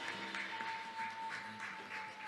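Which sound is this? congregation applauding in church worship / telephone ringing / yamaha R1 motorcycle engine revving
congregation applauding in church worship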